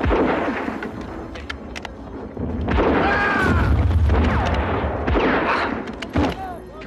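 Bombs and shellfire explode in a WW1 battle scene from an Australian Anzac drama, heavy booms rolling under constant battlefield din and shouting voices throughout.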